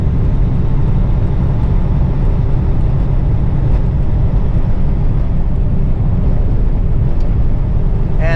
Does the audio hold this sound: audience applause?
no